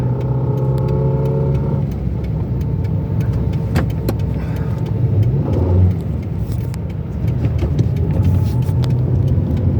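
A gas-powered bus pulls away, its engine giving a steady, low rumble with a brief tonal whine at the start that fades as the vehicle moves off, with no talking.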